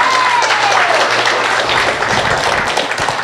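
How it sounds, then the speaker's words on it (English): An audience at a vaudeville-style comedy and variety show claps steadily. The applause is a dense, even wash of hands that holds for the whole stretch, with a faint tone near the start. "Let's have a round of applause for everyone who's brave enough to come up here."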